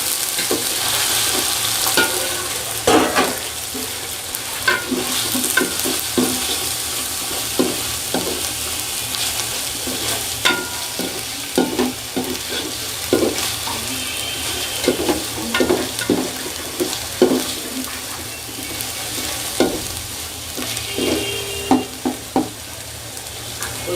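Meat stir-fried with ginger-garlic paste crackles steadily in a pan while a utensil scrapes and knocks against the metal in frequent irregular strokes, loud and close.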